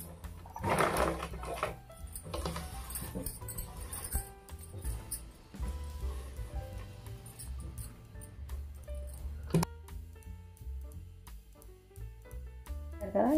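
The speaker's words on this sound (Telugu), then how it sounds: "ఒక 1/2 ఇంచ్ మార్జిన్తో మనము స్టిచ్ అనేది వేసుకోవాలి" A sewing machine stitches a seam on a Punjabi dress, running in close, loud bursts of rapid mechanical whirring with brief pauses and small clinks between runs.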